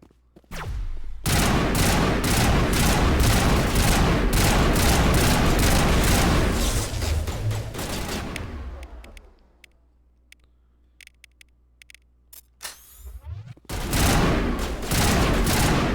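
Gunfire in the Mass Effect video game during a firefight: dense loud bursts of rapid shots for several seconds, a quieter gap with scattered ticks, then heavy firing resumes.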